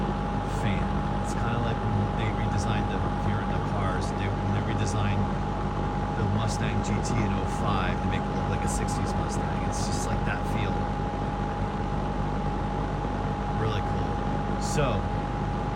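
A Lakewood P25 metal-blade window fan runs steadily, giving a constant whooshing airflow with a sustained motor hum throughout. Occasional faint outdoor sounds sit in the background.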